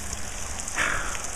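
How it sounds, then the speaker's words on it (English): Steady rain falling on surfaces while waiting out the weather on a motorcycle trip, a dense close patter of drops with one brief louder splash midway. "and it's been raining"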